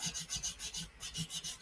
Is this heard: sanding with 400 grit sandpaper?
yes